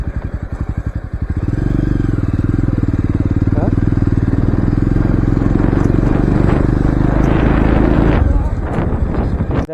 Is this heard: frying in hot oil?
no